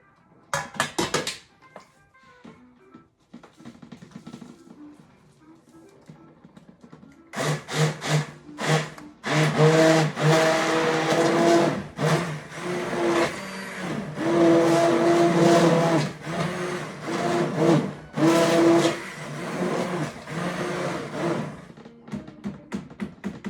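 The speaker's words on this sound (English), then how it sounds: "I'm going to use the immersion blender, and you can smooth out or make it as chunky as you want your peas." Immersion blender whirring through a pot of split pea soup, starting after a few quiet seconds with brief clatters, then running loud and steady with uneven bursts for most of the clip before cutting off near the end.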